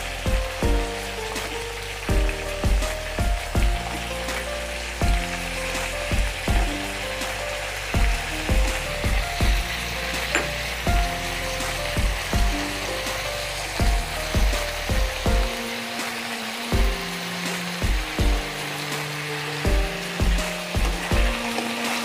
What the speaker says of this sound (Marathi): तेलामध्ये छान असं परतवून घ्या.